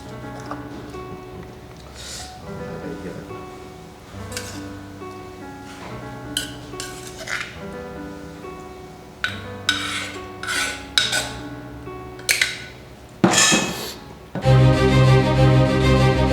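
Som tum plara, a Thai papaya salad with fermented fish sauce, being dished up: a run of close clinks, scrapes and taps of utensils against plates and bowls, growing busier toward the end, with no talk.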